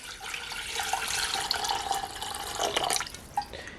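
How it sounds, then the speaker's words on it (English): Filtered water poured into a 1.2-liter electric hot pot, a steady splashing stream close by that thins toward the end with a few final drips. "So I'm going to add some filtered water."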